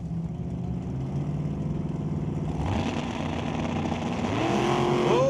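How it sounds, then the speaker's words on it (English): A 1932 Bantam Altered drag car with a 565 cubic inch big block Chevy engine rumbles loudly at a drag strip, its deep engine note building and rising in pitch toward the end, with no talk. "the TNT Auto Parts 1932 Bantam Altered with 565 cubic inches of big block Chevy motor"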